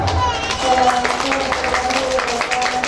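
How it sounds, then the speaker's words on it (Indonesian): An audience at a Quran school (TPQ) graduation assessment event in Jember breaks into steady, dense applause, a continuous wash of many hands clapping at fairly even loudness for the whole stretch. "Tepuk tangan"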